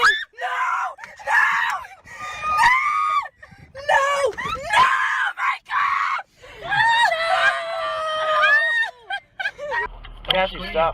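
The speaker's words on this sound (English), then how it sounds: "stop screaming." A child screams and shrieks at night in a string of loud, close, high-pitched bursts with brief gaps between them, rising to a near-continuous wail toward the end.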